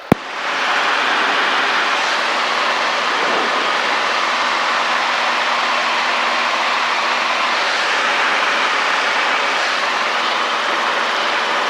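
A steady, loud Robinson R22 helicopter engine roar fills the clip with a constant whooshing drone, heard from inside the cabin in flight.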